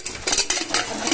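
A metal lid is set onto a pressure cooker in a home kitchen during cooking of goat trotters curry, with a quick series of close metallic clinks and scrapes.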